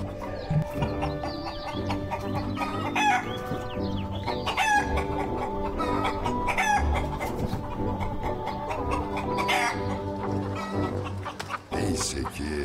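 Chickens cluck and a rooster crows while being caught in rural Anatolia, a loud, dense jumble of agitated squawks and a few crowing calls with scuffling throughout.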